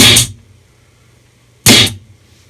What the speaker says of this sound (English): I have a snare